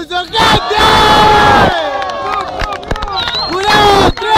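A crowd at a freestyle rap battle roars and cheers, with loud shouting, whoops and clapping in bursts, voices chanting together over the noise.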